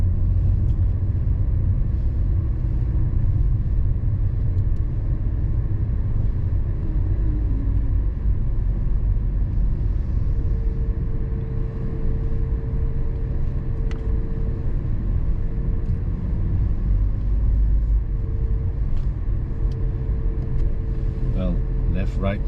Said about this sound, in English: but at least it's moving lah, the cars.